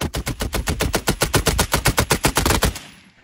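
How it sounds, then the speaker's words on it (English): A Vickers machine gun fires one sustained burst of about twenty evenly spaced, heavy reports in under three seconds, loud and close, then stops abruptly with no voices. "This was but a small window into what the Vickers was capable of truly sustained firing."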